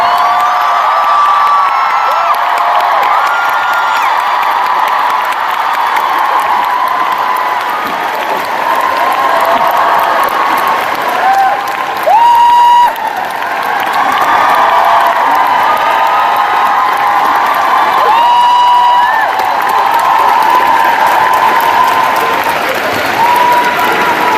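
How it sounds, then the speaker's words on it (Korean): Sustained, loud audience applause fills the hall at the curtain call of the All That Skate 2013 ice skating show, with scattered cheers and whoops rising over the steady clapping throughout. "여러분 안무가 데이비 윌슨에게 다시 한번 뜨거운 박수 부탁드리겠습니다"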